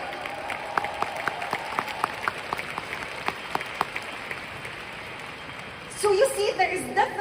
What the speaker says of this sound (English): Can we give Freeway a round of applause today?